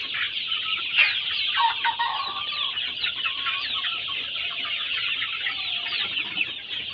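Roosters and hens on a broiler poultry farm cluck and call continuously, a dense chorus of many birds close by with overlapping squawks and short crowing bursts, steady in level and without talk.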